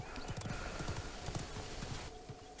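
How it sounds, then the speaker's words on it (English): A horse gallops in the Realm Royale video game, its hooves clip-clopping in a quick, continuous rhythm, soft and fairly quiet throughout. "So I got on the horse"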